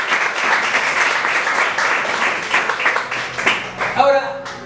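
Applause from a church congregation fills the room, a dense steady clatter of clapping that swells and fades, with a voice speaking near the end.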